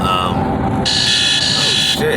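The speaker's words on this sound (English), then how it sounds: "That was my alarm." A phone alarm goes off during a casual talk recorded while driving, a loud, steady high-pitched electronic tone sounding continuously over road noise while someone speaks.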